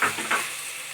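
Chopped tomatoes go into a hot pan of sautéed ginger and garlic for chicken biryani, giving two quick hissing bursts that settle into a soft, steady sizzle.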